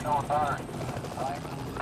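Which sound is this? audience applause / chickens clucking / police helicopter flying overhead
police helicopter flying overhead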